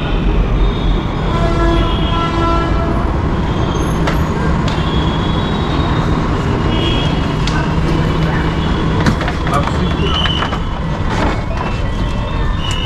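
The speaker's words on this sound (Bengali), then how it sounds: "মেট্রো আমাদের চলে এসছে।" A metro train pulls into a station with a steady, loud rumble and rolling rail noise, faint wheel squeal and clinks over the continuous roar.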